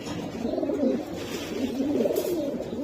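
Soft, continuous cooing of Giribaz pigeons, a low warbling murmur that rises and falls steadily over background noise.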